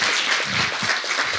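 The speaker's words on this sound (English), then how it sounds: "Wonderful round of applause." A conference crowd applauds steadily, dense clapping filling the whole moment with no voices over it.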